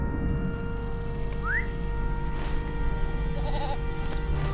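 A goat mount is summoned in the Lord of the Rings Online video game, giving a short bleat and a quick whistle-like chirp over a steady, droning game ambience. The sounds are brief and moderately loud.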